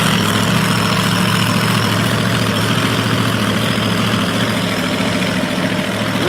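A rear-engine dragster idles at a raceway, a loud, steady, low-pitched engine rumble with a lumpy, hunting throb that holds throughout without pause.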